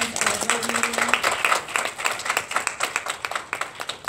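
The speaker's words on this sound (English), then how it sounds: "Can we give everyone a round of applause?" A small group at a public health meeting claps steadily for a few seconds, close and moderately loud, with a short murmur of voice at the start.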